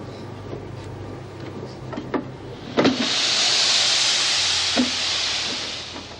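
Steam from a press hisses in a broad, steady rush that swells after a few clicks and knocks, in a prison setting, and no one speaks.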